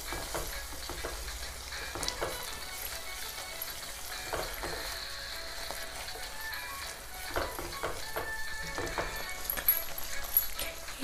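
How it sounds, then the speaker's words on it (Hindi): Spice powders stirred into cauliflower and potato sabzi frying in a pan, giving a soft continuous sizzle with scattered spoon scrapes and taps, faint and fairly even throughout. "अब हम इसमें जितने भी मसाले का पाउडर था सब डाल देंगे और हम इसको अब चला लेते हैं अच्छी तरह"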